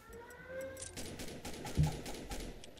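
Rapid bursts of gunfire, weapons firing in a five-versus-five video game clan war, crackle in quick repeated volleys with one heavier blast near the middle.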